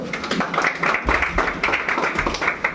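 Students clapping together in a classroom during a rehearsal session, a dense, steady patter of many hands with rhythmic bursts, fairly close and loud, with no talking over it.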